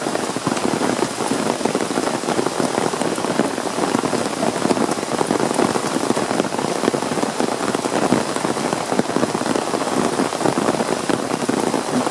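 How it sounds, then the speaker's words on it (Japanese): Steady rain falling in a hydrangea park, dense even patter of drops on leaves and surfaces throughout, with no voices. "雨が降ってます。"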